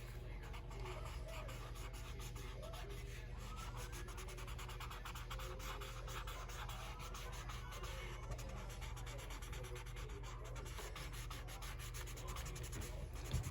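Faint, continuous soft scrubbing as a cotton swab rubs and blends graphite pencil shading on paper, a quiet close-up friction with small uneven strokes.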